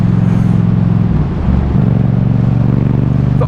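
2017 Yamaha MT07 motorcycle with a full Scorpion exhaust idling and revving, a loud deep engine drone with a brief dip before the throttle picks up again and holds steady.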